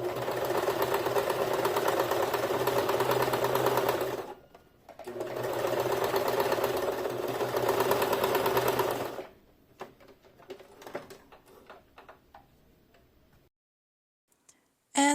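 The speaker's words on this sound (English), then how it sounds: "just attaching the two fabric pieces using a straight stitch" A sewing machine straight-stitches two pieces of scrap muslin together with red thread, a rapid mechanical whirring in two long close bursts separated by a pause, followed by scattered ticks and clicks as it stops.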